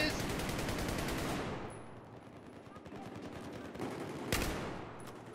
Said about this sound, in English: Last two bullets in the gun fucking killed a guy.